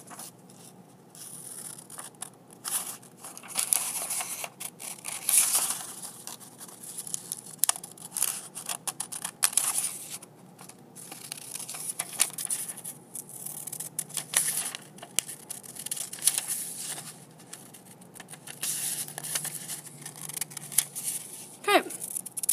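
Scissors snip through paper to cut out a drawn net for a triangular prism. The cuts are faint and close, with irregular crisp snips and rustling paper over about twenty seconds and no talking.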